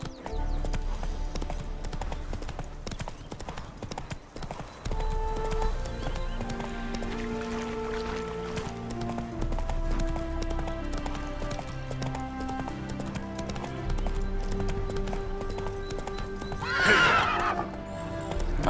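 Roach, a horse in the video game The Witcher 3: Wild Hunt, whinnies and its hooves clip-clop over a steady musical score, with a sharp burst of whinnying near the end as it spooks at ghosts.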